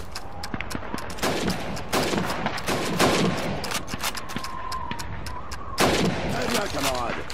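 Rifle fire at a shooting range in the Xbox game Call of Duty 2: a dense, rapid string of loud gunshots overlapping one another, with faint voices in the mix.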